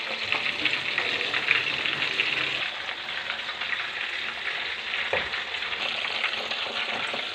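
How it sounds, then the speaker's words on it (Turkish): Steady, crackling sizzle of crispy chicken frying in hot oil, close and continuous with dense bubbling pops and no talking. "Şöyle kızartıyoruz."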